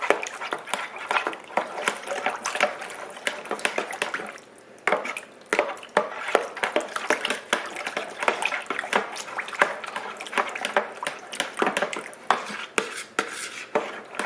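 A spoon stirs dissolving yeast mixture in a bowl and scrapes the sides, giving close, irregular clinks and wet scraping taps over soft liquid sloshing.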